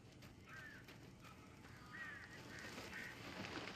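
Crows cawing around a house in Alan Wake Remastered, several harsh caws repeating at intervals, faint and somewhat distant over a quiet ambient background.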